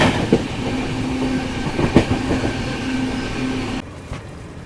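Kannur to KSR Bengaluru express train passing nearby gives a steady rumble with rhythmic clicks of wheels over rail joints, then drops off sharply near the end.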